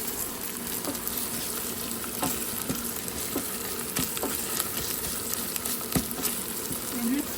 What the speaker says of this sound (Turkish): Kavuruyorum. yemek kaşığı domates salçası, yarım yemek kaşığı biber salçası.